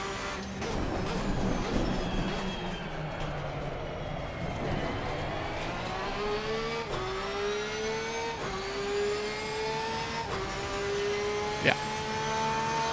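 A race car in Assetto Corsa Competizione downshifting into first gear and engine braking, a continuous loud engine whine with stepped pitch jumps at each gear change and a brief sharp blip near the end, with no talk.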